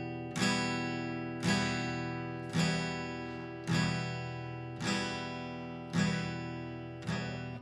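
Acoustic guitar strummed across all strings with no sponge mute, seven full ringing chords at a steady pulse, each one sustaining and decaying before the next, close and clear with no talking.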